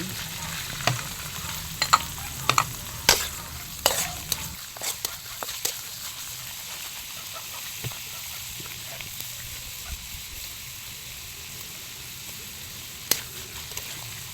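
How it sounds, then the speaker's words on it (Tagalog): Chopped onion and garlic fry in hot cooking oil, a steady close sizzle with scattered sharp clinks and scrapes from stirring, busier in the first few seconds and settling to a softer hiss afterward. "Ikay na tayo ng mantika. At pagsamahin ko na yung sibuyas at bawang atay."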